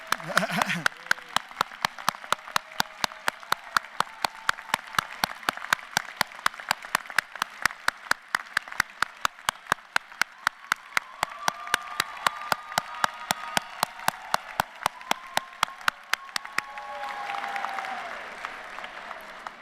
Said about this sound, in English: And a big round of applause if you can stand up.